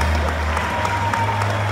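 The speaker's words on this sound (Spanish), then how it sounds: "Fuerte el aplauso para Olger." Graduation audience at a school ceremony gives applause for a graduating student, steady close clapping throughout with a low hum underneath.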